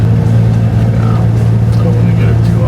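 BMW N55 engine fitted with a Shuenk S500 stage 1 turbo, heard as a loud, close, steady low-pitched roar at high revs for a few seconds.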